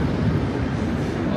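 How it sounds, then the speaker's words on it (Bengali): A train approaching near Jessore, Bangladesh produces a continuous low, rumbling drone that stays close and steady through the brief moment. "ও ট্রেন আসতেছে, ট্রেনের আওয়াজ শোনা যাচ্ছে"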